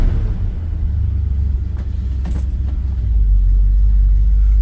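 A 1978 Chevy C10 pickup truck driving, with a deep, steady engine and road rumble from inside the cab that swells slightly near the end.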